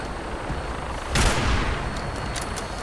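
Gunshots fired at a grabber robot in Fallout 76, a heavy booming burst rising over constant loud mechanical background noise, with a few sharp metallic clanks afterward.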